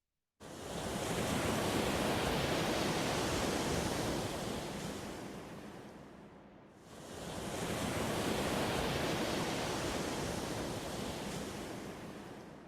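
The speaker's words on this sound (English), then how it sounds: "And you'll hear wave music." Steady broadband surf roars up, eases into a brief lull, then swells again, a continuous wash of ocean waves with no voices.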